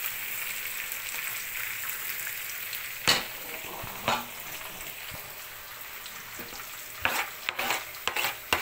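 Chopped onions hit a hot frying pan while cooking adobo, giving a steady close sizzle broken by a few sharp stirring scrapes and clatters.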